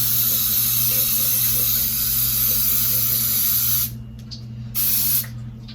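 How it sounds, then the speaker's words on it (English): Cooking spray hisses into a cup in a long steady burst, pauses, then gives a shorter second spray before stopping, close and loud against a low background hum. "I'm gonna spray it first so that it don't get stuck in there."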